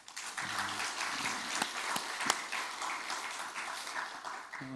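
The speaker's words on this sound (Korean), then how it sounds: "우리 모두에게 박수 한번 하십시다" A church congregation applauds during a Sunday worship service, many hands clapping in a steady, moderately distant wash with a few sharper claps standing out.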